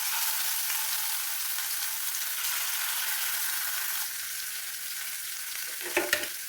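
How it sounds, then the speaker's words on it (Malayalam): Sardines sizzle steadily in hot oil in a home kitchen, a dense continuous crackle that carries on alone, with a few brief sharper pops near the end. "ചൂടായ എണ്ണയിലേക്ക് അങ്ങനെ മത്തി ഓരോന്നിട്ട് കൊടുക്കാം."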